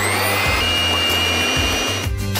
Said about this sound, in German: Puderzucker dazugeben und alles schlagen lassen.